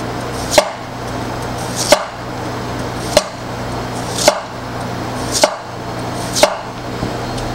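A Maestro Wu D11 steel slicer chops through carrots on a board in steady, evenly spaced sharp knocks, about seven blade strikes close up with no talk.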